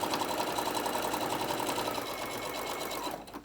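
A sewing machine runs steadily, stitching an X through quilt batting on a fabric bowl koozie, its rapid needle rhythm continuous and close before stopping at the end.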